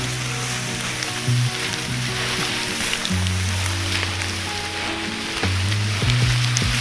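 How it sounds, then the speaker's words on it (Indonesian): Heavy rain pours during a mountain hike on Gunung Cikuray on the way to post 4, a dense steady hiss close to the microphone, with a low humming tone underneath throughout. "kami pun diguyur lagi hujan yang sangat deras"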